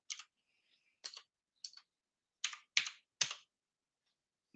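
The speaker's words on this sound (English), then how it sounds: "I was going to type in Dennis Priestley" Computer keyboard typing in a quiet room: six short bursts of key clicks spaced irregularly over a few seconds, close and fairly soft, with silence between them and no talking.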